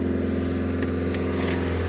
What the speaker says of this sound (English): You can hear it's automatically raising the revs of the engine while it's doing the test.